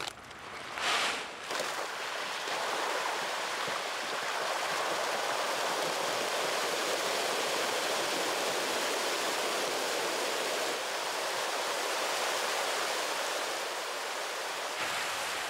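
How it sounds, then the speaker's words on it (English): Hundreds of thousands of panga fish churn and thrash in crowded farm ponds at feeding time, a continuous broad splashing roar of water that stays loud and steady throughout. "watch the show while the fish have their breakfast."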